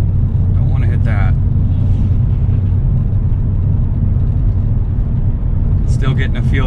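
A Lexus GS400 cruises along back roads, its engine and road noise forming a loud, steady rumble heard from inside the car, with brief bursts of other sounds near the start and end.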